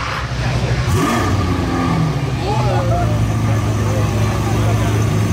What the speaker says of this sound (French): Ça, c'était pour le démarrage de la SVJ.